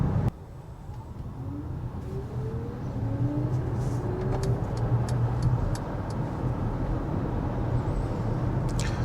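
A Mercedes EQA electric car pulls away with a low steady road rumble, and faint rising electric-motor whines sweep upward over several seconds, with a few light ticking sounds inside the cabin.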